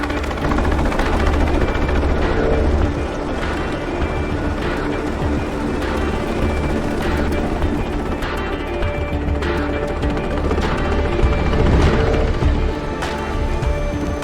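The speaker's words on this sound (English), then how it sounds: "Nishimura's got a chopper outside waiting for you." A helicopter waits outside in a Tomb Raider Legend cutscene, its rotor and engine droning steadily and loudly throughout, with occasional sharper knocks over the continuous roar.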